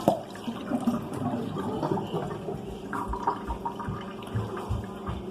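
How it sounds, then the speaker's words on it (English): Water pours and splashes steadily as a pot of boiled potatoes is drained, a soft continuous trickle with small gurgles throughout. "You're going to take your potatoes and drain out the water."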